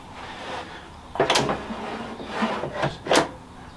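Drawers of a Ninja Foodi dual zone air fryer being pushed in and pulled out, giving about four distinct plastic clicks and knocks spaced over a few seconds, close up and with no talking.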